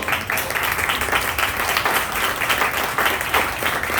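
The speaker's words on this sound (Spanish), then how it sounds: "Démosle un fuerte aplauso al Señor." A church congregation gives a loud round of applause to the Lord, dense, fast clapping that stays strong and even throughout.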